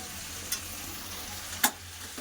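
Ground chili, coriander and cumin powder frying in a pan, a steady low sizzle with two brief scraping stirs standing out, close and fairly quiet with no talk.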